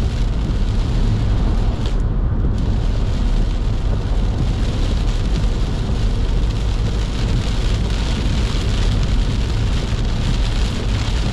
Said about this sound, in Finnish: On kyllä aika reipas sade.